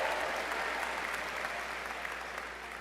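Steady applause from an audience at a high school commencement ceremony, a dense continuous clatter of clapping heard alone, fairly distant and fading slightly toward the end.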